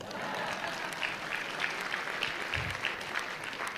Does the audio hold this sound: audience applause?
yes